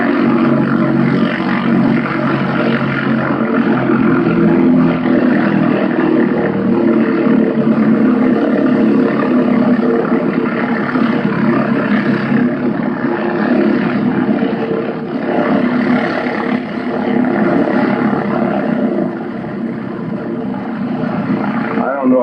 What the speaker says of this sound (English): I think one of these planes is mine that's taxiing in